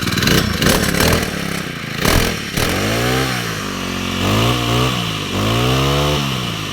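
A Honda GX35 four-stroke brush cutter engine catches after some clattering pull-start noise, then runs and revs in rising and falling surges, loud and close.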